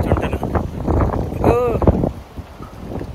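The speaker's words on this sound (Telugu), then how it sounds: "గాలి తోస్తుంది నన్ను వెనకాల నుంచి" Strong gusty wind blowing outdoors beside a road in Kuwait, pushing from behind, roars and buffets the microphone steadily, with a voice briefly audible through it.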